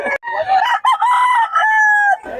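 A loud, close crow of a fighting-cock breed rooster, drawn out in one long rising-then-held call lasting about two seconds.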